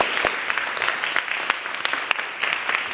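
An audience at a lecture gives the speaker a warm round of applause, dense steady clapping with sharp individual claps standing out, close and fairly loud.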